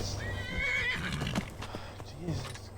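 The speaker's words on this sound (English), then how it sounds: "Let me calm down my horse." A horse in a video game whinnies in a high, quavering neigh near the start, with faint hoof sounds and a low voice talking underneath.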